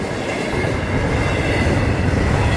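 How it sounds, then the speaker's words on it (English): A massive Florida East Coast Railway freight train rolls past close by, a loud, steady rumble and clatter of wheels on track that fills the whole stretch without a break. "It's another massive train."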